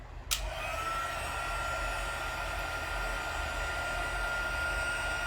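Heat tool melting embossing powder into a raised texture during a crafting session: a loud, steady blowing roar starting after a brief click and running continuously without change.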